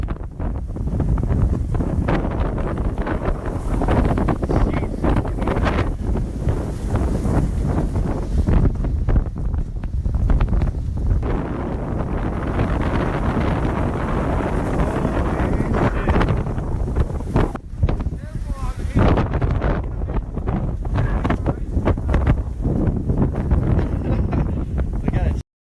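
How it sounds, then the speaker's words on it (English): Strong wind on a beach in Corfu roars continuously across the microphone, loud and buffeting throughout with gusty swells. "The wind in Corfu is no joke today."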